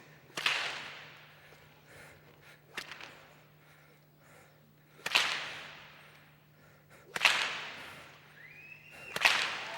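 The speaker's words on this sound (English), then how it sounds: "I want to prove that I can crack a stock whip on the ground" Stock whip cracked near a horse on open ground, five sharp separate cracks spaced a couple of seconds apart, close and loud against quiet surroundings with a faint steady hum.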